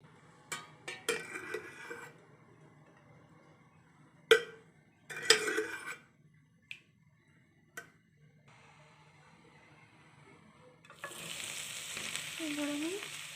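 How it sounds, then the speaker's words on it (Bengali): Spiced lentil filling fried in oil in a wok, scattered spoon knocks and clinks over a faint low hum, then a soft steady sizzle rising toward the end. "এবার আমি তেল দিয়ে ভেজে নেব পুরগুলোকে"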